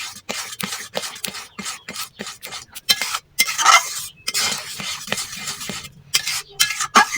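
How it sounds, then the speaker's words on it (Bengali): Spiced mango pulp being stirred in a pan for raw-mango amsatta, with repeated scraping and stirring strokes and a light sizzle, close and steady, no talk. "দেওয়ার পরে এইভাবে ভালো করে গুটে দিতে হবে"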